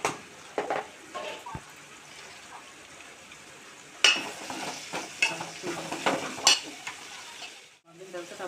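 Onion, green chilli and ginger paste frying in oil in a pan, a low background sizzle broken by bursts of spatula stirring and scraping, the loudest run of clatters in the second half.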